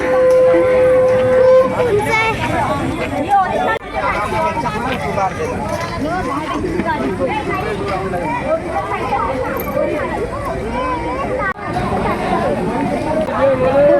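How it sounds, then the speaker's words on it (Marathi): A large crowd of pilgrims at Tungareshwar temple fills the air with dense, loud chatter and babble, close voices mixing with the surrounding hubbub. "गर्दी बघायची आहे भरपूरच गर्दी आहे"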